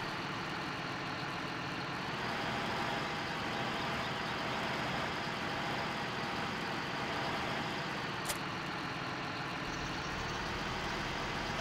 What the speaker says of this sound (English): So I'll give this tractor a try here, see what it does.